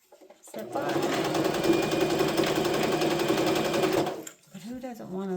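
A sewing machine stitches a Y2K-style heart purse with a close, rapid, steady mechanical whir that starts abruptly, runs about three and a half seconds, then stops before a voice speaks.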